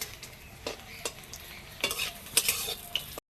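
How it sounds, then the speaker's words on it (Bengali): Papad sizzling in hot oil, with soft crackles and a few sharper pops and scrapes, up close with no talking. "এই যে ভাজি পাঁপড়"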